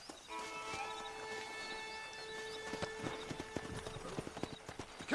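Rhythmic clip-clop of horse hooves at a steady trot in the Red Dead Redemption video game, accompanied by sustained musical tones and a few sharper knocks toward the end.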